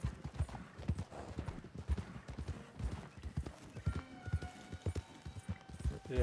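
Horse hooves clip-clopping in the game Red Dead Redemption 2, a steady, fairly quick rhythm of hoof strikes, moderately close and mostly alone, with faint background tones near the end.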